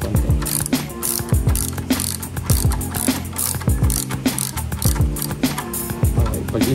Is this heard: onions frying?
no